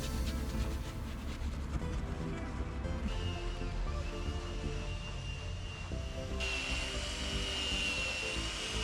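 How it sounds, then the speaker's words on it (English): A drill brush spins against car door panels on a 19-year-old car, giving a steady high motor whine with a scrubbing rumble beneath, pitch shifting as the pressure changes. "With this cleaning solution and a drill brush, they get cleaned like new right in place."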